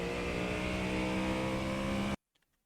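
Ford Mustang GT3 engine at full throttle on the Nürburgring Nordschleife in iRacing, a loud steady engine roar that cuts off abruptly after about two seconds into near silence.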